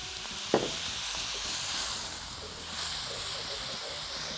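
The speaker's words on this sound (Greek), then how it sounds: "Ξύνουμε καλά το πάτο της κατσαρόλας" Minced meat filling for samosas sizzles and steams in a pot after a splash of wine and water, with a brief scrape across the pot bottom near the start and a steady hiss throughout.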